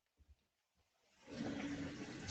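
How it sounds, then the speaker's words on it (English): Water pours into a barbecue sauce mixture. A couple of soft knocks come first, then a steady rushing pour swells and holds. "And I'm going to add a 1/3 cup of water."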